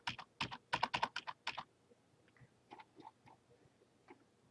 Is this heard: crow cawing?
no